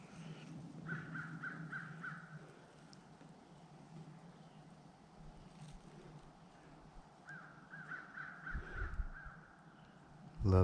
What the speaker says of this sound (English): Love the sound of crows.